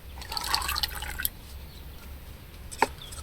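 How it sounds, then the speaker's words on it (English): Palm seed dropped and submerged in water, a short burst of splashing and bubbling followed by quiet and a single later drip. "submerge our seed in water"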